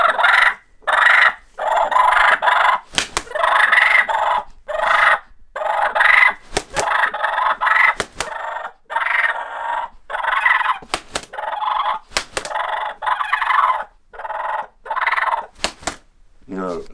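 A mouth or box turkey call mimics fighting turkeys, with rapid bursts of raspy, rhythmic purrs broken by short gaps and a few sharp clicks, played loud and close with no talk.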